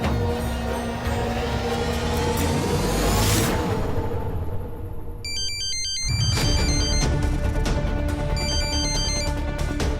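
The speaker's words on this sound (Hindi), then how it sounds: "तुम्हारा फोन कुछ ज्यादा नहीं बज रहा है?" A mobile phone ringtone plays, with a bright repeating electronic melody, loud and close after a whooshing swell, over a rumbling background.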